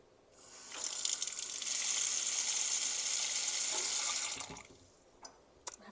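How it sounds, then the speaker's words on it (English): Water poured into a hot pan of cooking chicken bursts into a loud hissing sizzle that holds steady for a few seconds, then dies back to quiet with a couple of small clicks. "I'm going to add just a touch of water."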